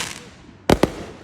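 Fourth of July fireworks outdoors: two sharp, loud bangs about a tenth of a second apart, after a quiet stretch of background noise.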